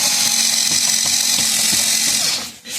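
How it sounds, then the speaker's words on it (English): A Ryobi cordless drill whirs loudly and steadily close by in bitter cold around -30°F, with faint rhythmic clicks under the motor, then winds down near the end. "I brought in my handy dandy Ryobi drill so I can speed up the process."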